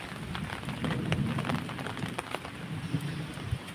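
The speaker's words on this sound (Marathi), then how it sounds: "त्यासाठी पाऊस बघा किती उठला" Steady heavy rain falls on the Konkan countryside, a close, even wash of drops striking surfaces, with no talking.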